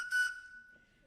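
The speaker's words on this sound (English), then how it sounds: "the one thing nobody's talked about so far are the blasted Christmas whistles" A small plastic Christmas cracker whistle sounds one steady single-note tone, starting with a short breathy burst and then holding the note for about a second before fading out, fairly faint and close.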